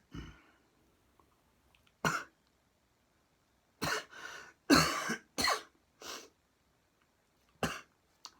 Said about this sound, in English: Don't mind my cough.